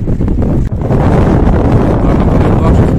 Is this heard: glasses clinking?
no